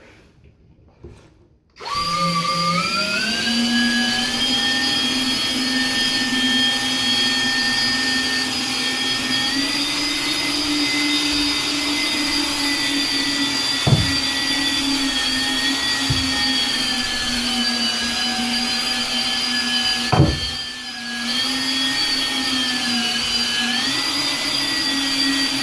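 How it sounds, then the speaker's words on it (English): A power drill spins a 3D-printed sponge arm with a wet sponge, a loud steady motor whine that starts after a brief quiet moment and runs continuously, with small knocks and a short dip near the end. "so here we got it on the drill."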